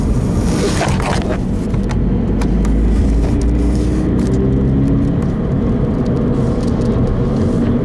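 A Scion FR-S / Subaru BRZ with about 150 to 170 wheel horsepower drives and accelerates on the road, its engine a loud, steady drone with road and wind noise heard from inside the car throughout.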